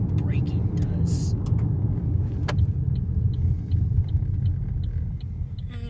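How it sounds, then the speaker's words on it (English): A Chevy Cruze slowing to a stop on a gravel road, heard from inside as a steady low road and engine rumble with faint crunching and occasional clicks. "now that we're getting to a stop on gravel, we'll see how well the braking does."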